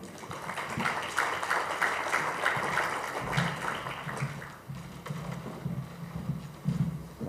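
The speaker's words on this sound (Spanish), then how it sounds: "a la doctora Angélica Valdivia, a la cual recibimos con un fuerte aplauso" An audience at a Peruvian endocrinology congress claps in sustained applause that fills the hall and then thins into scattered claps and room murmur.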